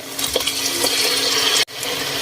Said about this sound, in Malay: Masuk air.